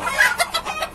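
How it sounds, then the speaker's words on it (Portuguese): A barred mini Cochin bantam rooster clucking up close, a short loud run of throaty clucks in about one second, with no talk over it. "Olha o galinho, ó."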